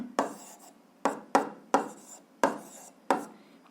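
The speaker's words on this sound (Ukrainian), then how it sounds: "Давайте я підкреслю, щоб було зрозуміліше" A pen strokes across paper while underlining in an 8th-grade algebra exercise, making six or seven separate scratchy swipes at an irregular pace, close and fairly quiet, with no talk over them.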